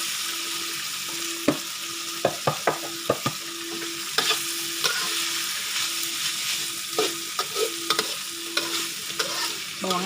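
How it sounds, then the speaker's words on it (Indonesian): Onions frying in oil in a pan for a petai sambal, with a steady broad sizzle and repeated sharp scraping clicks as a utensil stirs them, close up and alone. "Digoreng dulu bawangnya ya"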